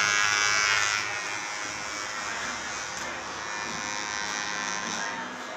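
An electric hair clipper fitted with a number one guard trims a long beard, a close steady buzz that stays even throughout with soft background noise.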